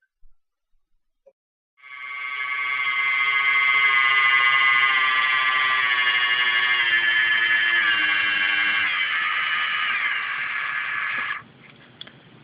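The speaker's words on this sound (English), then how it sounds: "The motor is now spinning at full speed. If we continue to press enter, it will decrease back to 0." An APO2 brushless micro motor driven by a 3A micro ESC whines steadily and loudly, its pitch shifting as the speed changes, for about ten seconds before cutting off abruptly.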